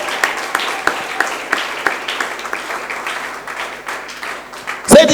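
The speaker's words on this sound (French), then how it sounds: "Can you clap those hands to Jesus?" A church congregation claps their hands together in a steady, rhythmic beat of moderate loudness, with a voice speaking over it. A louder sharp noise comes near the end.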